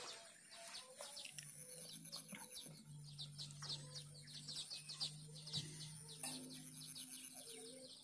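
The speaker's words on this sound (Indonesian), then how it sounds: "terdengar suara burung yang hidup di alam bebas pada waktu sore ini" Several wild birds chirp and call high over a steady low drone in the evening, with a few soft cooing notes scattered through an open outdoor setting in a village near Pariaman, Indonesia.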